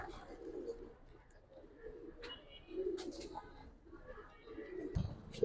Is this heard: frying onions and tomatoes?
no